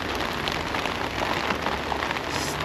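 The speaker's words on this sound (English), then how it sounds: "I'm getting frustrated in this rain." Steady rain falls outdoors in a dense, even hiss of drops striking surfaces nearby, continuous and fairly loud with no voices.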